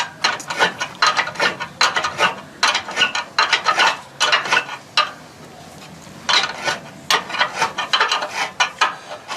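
Bolts being tightened on a rooftop mount for solar panels, a wrench ratcheting in quick repeated bursts of clicking with short pauses between runs, close and fairly loud, no speech.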